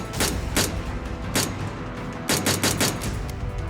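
A dramatized volley of troops' rifle fire at the Jallianwala Bagh massacre, with repeated loud cracks in irregular bursts, some shots clustered close together, over a continuous rumbling background.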